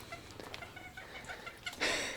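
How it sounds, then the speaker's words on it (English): Chickens cluck in short, scattered calls, with possible ducks, around a rural house in northern Laos, faint and somewhat distant, ending in a louder burst of noise. "Got the ducks, huge ducks,"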